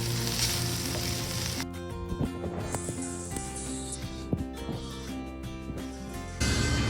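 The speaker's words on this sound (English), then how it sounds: "bring the onions and garlic to the top of the greens to get them wilted" Kale greens sauté with onions and garlic in a pan, a soft steady sizzle with occasional stirring clinks. Music plays over it, dropping quieter through the middle section.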